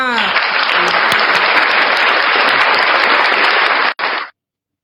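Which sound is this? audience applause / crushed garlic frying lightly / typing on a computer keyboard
audience applause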